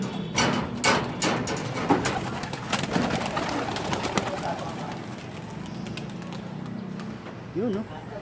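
Pigeons coo softly in a loft as someone talks, with sharp clattering knocks near the start and a brief clear coo rising near the end.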